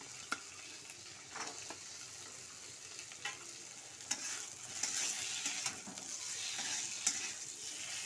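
Green peas sizzle and fry in a hot pan for a katla fish curry with thankuni leaves, a steady crackling hiss broken by scattered spatter pops and stirring scrapes.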